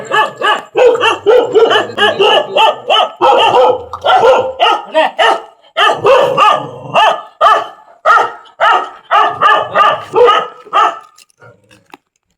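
Several dogs bark loudly and close by outdoors, a dense run of overlapping rapid barks and yips that keeps going with brief pauses before dying away at the end.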